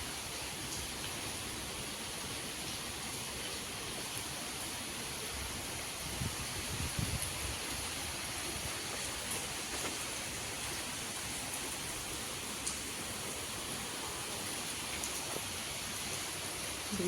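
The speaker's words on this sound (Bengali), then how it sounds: "কেমন বৃষ্টি হচ্ছে, পুরো মনে হচ্ছে আকাশ ভেঙে পড়বে।" Heavy rain pours steadily onto a road while runoff water rushes along it, forming a dense, continuous wash of noise with no voices and only slight swells in loudness throughout.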